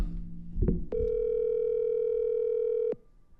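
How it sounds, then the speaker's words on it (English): An outgoing phone call rings. After a brief click comes one steady electronic ring tone lasting about two seconds, then quiet, with no voices. "We are calling Tara."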